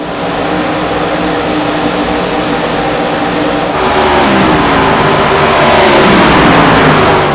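Stock race car engines in the iRacing video game, an ARCA Menards Series race at Homestead Miami Speedway, roar in a continuous loud drone that climbs in pitch as the cars accelerate down the back straightaway.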